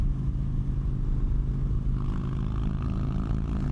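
An Indian motorcycle passes with a steady low engine drone, loud and close, without spoken voices.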